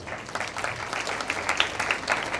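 Church congregation at a Sunday service breaking into steady, dense applause, a continuous wash of many hands clapping throughout the short stretch.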